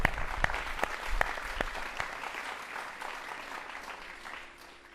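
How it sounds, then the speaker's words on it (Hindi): Applause from a crowd at an outdoor yoga session, cheering on small children, with sharp claps at first that settle into a steady, dense patter and then fade toward the end. "इन छोटे छोटे बच्चों के लिए ताली बजाओ।"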